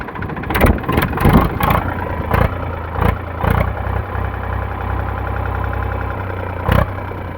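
A 2015 Eicher 485 tractor engine idles with a low, steady diesel rumble, broken early on by several sharp knocks and clunks nearby, then settling into an even throb.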